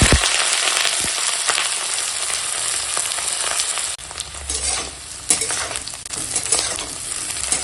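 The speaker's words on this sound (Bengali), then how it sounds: "এখন দেখো কড়াই তেল গরম হয়ে গেছে, কপিটা ভেজে নেবো।" Cauliflower fries in hot oil in a wok, giving a loud, dense, continuous sizzle and crackle with occasional sharp pops and stirring scrapes, close up.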